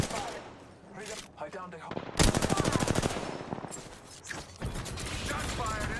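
Rapid automatic gunfire bursts in Apex Legends, loud and close in a fast stream of shots with scattered mechanical clacks, while players talk over the fighting.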